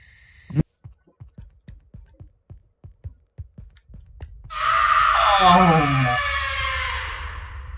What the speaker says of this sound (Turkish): O nasıl bir çığlıktı